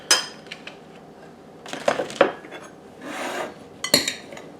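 Sliced garden cucumbers, bell pepper and onion are tossed together in a bowl for freezer pickles, giving close bursts of wet rustling, scraping and clattering of a utensil against the dish, with quiet pauses between.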